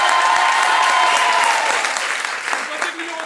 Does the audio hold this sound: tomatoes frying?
no